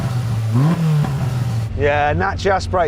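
Polaris RZR with a 2-litre 4-cylinder engine idling during a sound check, a steady close engine drone with a brief rev, while people talk over it in the second half.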